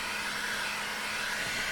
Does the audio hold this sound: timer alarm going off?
no